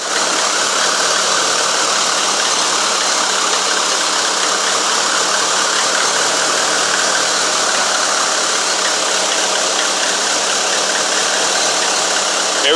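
A 2005 Lancer Evolution engine idles steadily with its AC compressor engaged, a loud, continuous mechanical hum with a faint rattling knock running unbroken throughout.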